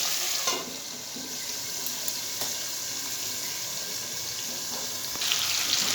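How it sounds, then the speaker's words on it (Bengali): Lentil fritters frying on high flame in a covered pan, a steady soft sizzle running evenly throughout with no voices. "চাপা দিয়ে ভাজবেন, তাহলে ভাজাও হয়ে যাবে, সিদ্ধও হয়ে যাবে।"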